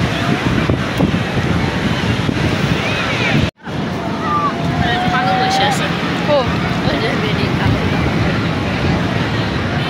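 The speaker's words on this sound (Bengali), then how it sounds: "সাগরের গর্জন শুনেন সবাই" Roaring sea surf and strong wind buffet the microphone on Cox's Bazar beach, a dense continuous wash broken by one brief dropout, with occasional faint voices mixed into the noise.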